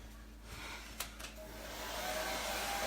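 A hair dryer on a low temperature setting blows over wet chalk paste, a steady close whoosh that rises slightly in level, with a few soft handling clicks near the start.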